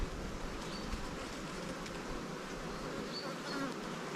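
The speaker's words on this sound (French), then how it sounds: "J'ai coincé une abeille, c'est pas grave tant que c'est pas la reine." Honeybees hum steadily around an open hive during hive splitting and queen marking, a dense, continuous buzz close by and heard alone with no talk.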